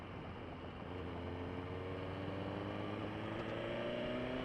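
A 2018 Suzuki GSX-R1000 engine hums steadily while being ridden, with a continuous drone and faint rising tonal lines as it slowly builds, heard from the rider's position with no talking.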